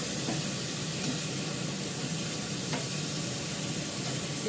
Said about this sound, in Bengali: ভালো করে লাল করে ভেজে মাংসটা দিয়ে দেবো